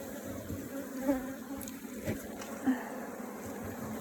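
Honey bees drone and buzz around an open top bar hive, a continuous faint hum with a few louder buzzes as individual bees pass close by.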